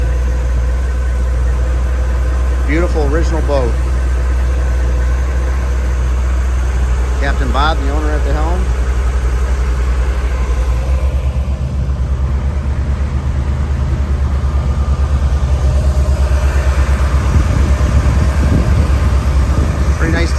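Twin rebuilt Chrysler 360 engines drone steadily aboard a 1969 31-foot Bertram Bahia Mar on Lake Erie, a constant low rumble beneath a voice speaking over it.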